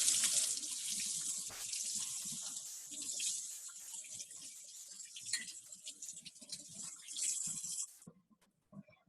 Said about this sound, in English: I'm going to turn my water back on so we can rinse it off